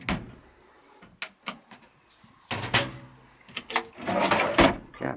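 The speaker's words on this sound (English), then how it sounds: "Good nice drawer. cutlery drawer." Cutlery drawer in a motorhome kitchen being opened and shut, several short knocks and sliding clatters spread unevenly across a quiet room, with a final louder rattling slide and bump.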